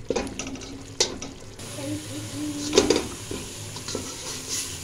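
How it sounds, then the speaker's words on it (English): Curry gravy stirred steadily in a pan, a spoon scraping and clacking against the metal in repeated strokes over a soft sizzle, with a few sharper knocks standing out. "constant stirring constant stirring and constant stirring"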